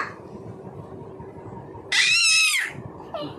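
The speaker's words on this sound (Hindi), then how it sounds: "देखो चीख रहा है" A 1.5-year-old toddler lets out one loud, high-pitched scream lasting about half a second, close by, after a quiet stretch of low background noise, with a shorter squeal following.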